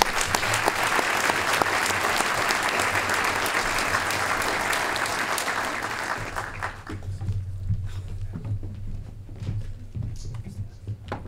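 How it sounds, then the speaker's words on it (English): Audience applauding broadcasting students at a broadcasters' hall of fame ceremony, a dense, steady clapping that fills the room for about six seconds before thinning out to a few scattered claps and a low murmur. "Let's give them a round of applause"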